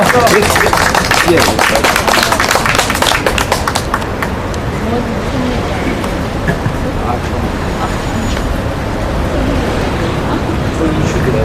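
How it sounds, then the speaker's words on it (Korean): A crowd at a street rally in a park applauds loudly in the first few seconds, then the clapping fades into steady traffic noise and murmuring voices. "큰 박수 부탁드립니다."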